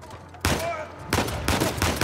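Gunfire from an AK-47 in Uncharted 4 erupts in loud, dense bursts of automatic fire, separated by short pauses, with a faint background hum between volleys.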